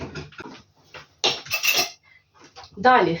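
Metal and dishware clatter as a loaf tin and pieces of jelly are taken out in a home kitchen, a few sharp clanks and rustles near the microphone, with someone speaking briefly in between.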